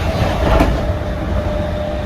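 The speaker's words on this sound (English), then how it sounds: "whenever a passing train goes by, particularly an Avanti, it is very, very sudden" An Avanti train passes suddenly and loudly, heard from inside a Class 319 train carriage as a continuous heavy rumble and roar, with no talking.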